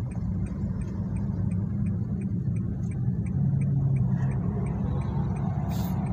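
A car's turn signal ticks steadily during an automatic-transmission driving lesson, a regular crisp clicking repeating evenly over a constant low engine rumble inside the cabin.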